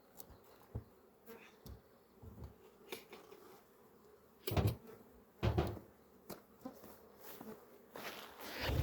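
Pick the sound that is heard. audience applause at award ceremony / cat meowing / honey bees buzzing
honey bees buzzing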